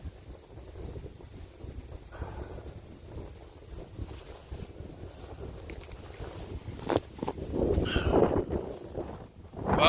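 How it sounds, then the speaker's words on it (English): Wind gusting outdoors on a disc golf course, a steady broadband rush that grows louder and more buffeting toward the end, with microphone wind noise and no talking. "Look at the wind blowing it."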